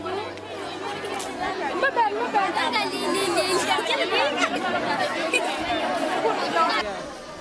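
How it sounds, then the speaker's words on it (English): Many voices overlap in a busy outdoor crowd under the trees at a morning clinic in a South Sudan village, a continuous murmur of talk with individual voices rising close by throughout. "This is the sound of morning clinic."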